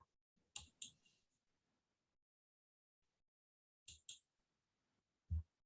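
A computer mouse gives two quick pairs of sharp, faint clicks a few seconds apart, close and quiet, with a soft thump at the end and no talking.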